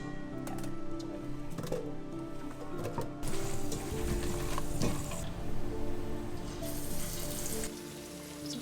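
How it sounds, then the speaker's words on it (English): Cauliflower pakoras frying in hot mustard oil over high heat, a faint, steady crackling sizzle close by, growing busier and louder partway through. "you want to fry them until they're really beautiful and golden"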